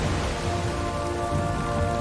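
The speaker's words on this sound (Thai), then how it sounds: "ฝนตก ฝนฟ้าคะนองเลยว่ะ" A thunderstorm in the video game Valheim brings steady, dense rain hissing and pattering without pause; no distinct thunder clap stands out.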